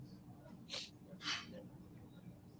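Two quick sneezes, about half a second apart, during a calm indoor conversation, faint against a low steady room hum.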